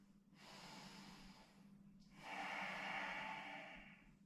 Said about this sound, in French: 3 grandes respirations ici.